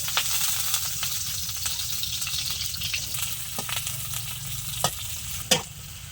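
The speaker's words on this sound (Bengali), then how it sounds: "পেঁয়াজটা লাল করে ভেজে নেব।" Onions fry in hot oil in a wok with a continuous sizzle. Scattered clacks of a stirring spatula come through near the end, and nobody talks.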